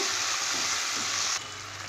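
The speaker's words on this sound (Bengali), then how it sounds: "পেঁয়াজটা হালকা ভেজে নিয়েছি এবার এতে আমি টমেটো কুচিটা দিয়ে দেবো টমেটোটা দিয়েও একটু নেড়ে চেড়ে নেব" Chopped tomato going into lightly fried onions in a pan, a close, steady frying hiss that quiets suddenly partway through as the wet tomato settles in.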